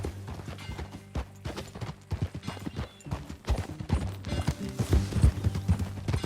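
Horse hooves clip-clop at a riding pace in Red Dead Redemption 2, a steady, fairly close rhythm of hoofbeats on a dirt trail that lasts throughout with no talking.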